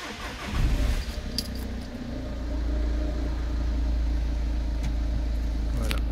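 A car engine with an EGR valve fault (code P1462) is cranked and starts, settling into a steady close idle rumble after a brief jingle of keys, with no talk.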